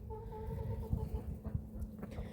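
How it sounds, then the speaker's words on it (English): Chicken clucking softly and steadily up close, with a low farmyard murmur underneath. "That's chicken."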